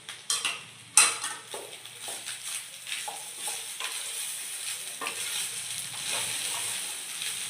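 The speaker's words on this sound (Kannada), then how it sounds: "ಪೌಡರ್ ಜೊತೆ ಮಿಕ್ಸ್ ಮಾಡ್ಕೊಳ್ಳಿ" A capsicum rice mixture is stirred with spice powder in a pan. A spoon scrapes and clinks against the metal in uneven strokes over a soft, steady sizzle, with a louder clank near the start.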